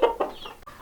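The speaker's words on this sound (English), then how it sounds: "Mama and the babies have decided they're all big chickens now. They just got up on the roost for the night" Icelandic chickens perched on a roost for the night give a couple of soft, close clucks in quick succession, short and fairly quiet.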